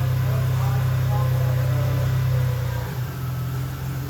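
A 2000 Toyota Tacoma truck engine runs steadily at idle with a strong low hum, close by, easing slightly near the end.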